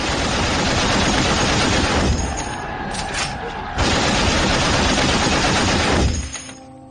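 German machine guns on a World War I front fire in loud, sustained rattling bursts that ease briefly in the middle, then resume before dying away.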